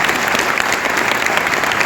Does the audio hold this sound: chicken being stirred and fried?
no